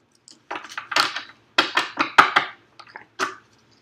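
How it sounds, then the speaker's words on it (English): Tarot cards are shuffled by hand: a series of short, crisp riffling and slapping bursts, close and fairly clear, in an uneven rhythm with brief gaps and no talk. "I just like to shuffle just a little more"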